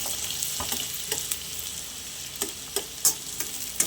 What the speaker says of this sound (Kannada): ಈಗ ಎಣ್ಣೆ ಕಾದಿದೆ ಈರುಳ್ಳಿ ಹಾಕೋತಾ ಇದ್ದೀನಿ ಈರುಳ್ಳಿ ಹಾಕೊಂಡು ಚೆನ್ನಾಗಿ ಬಾಡಿಸ್ಕೋಬೇಕು